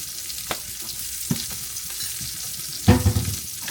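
Scrambled eggs sizzle and fry in a pan, a steady crackle punctuated by a few sharp stirring scrapes and one louder burst near the end, no voices.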